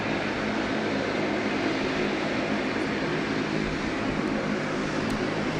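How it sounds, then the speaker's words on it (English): A Singapore airliner takes off at night at Sydney Airport, its jet engines a broad, steady roar that stays loud and unbroken throughout, with no voices. "Singapore 222 is now cleared for takeoff."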